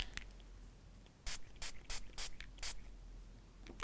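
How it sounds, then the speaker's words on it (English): Short bursts of spray paint hit chipboard pieces, roughly six sharp hissing puffs in a quick uneven rhythm over a quiet background, close and alone. "I'm going to spray them kind of different colors"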